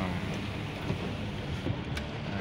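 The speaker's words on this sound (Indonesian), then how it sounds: "Kat luar hujan." Rain falling outside a car during a power window repair, a steady soft hiss of drizzle with faint low rumble, no talking.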